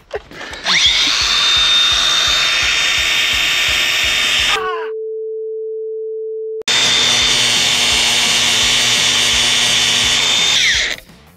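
An angle grinder whines loudly through metal on a motorhome in two long bursts, separated by a short pause with a steady low hum.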